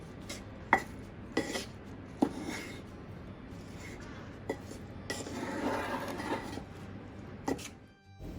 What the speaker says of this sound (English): You want to stir really thoroughly and macerate the plums a little bit as you go